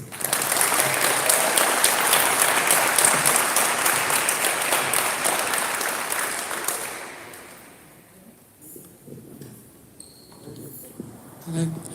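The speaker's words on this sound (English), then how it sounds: "Can we please give another round of applause for Steve, please?" An audience at a live show applauds, with loud, dense clapping that holds for several seconds before fading away into near quiet.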